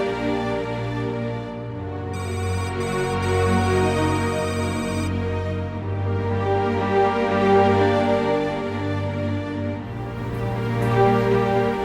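A telephone rings on and on without pause, a steady electronic ringtone pattern repeating close by over a constant tonal drone, in a setting in Rome with storm clouds gathering.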